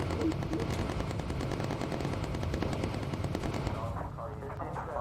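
Rapid machine gun fire from bomber turrets in the video game Bomber Crew, sustained bursts of fast repeated shots over engine drone, easing off near the end.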